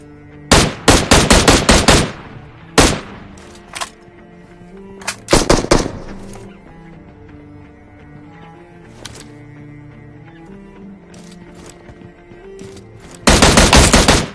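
M16 gunfire in PUBG Mobile: sharp, loud bursts of rapid automatic shots in several separate volleys, with quieter in-game ambience and a few single cracks between bursts.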